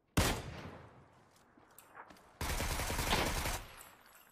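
Rapid bursts of gunfire in the PUBG video game, a sharp volley followed by a quieter stretch and then a second sustained loud burst of automatic shooting, close and dense with no talk over it.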